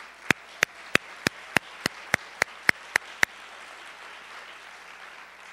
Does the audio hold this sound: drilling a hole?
no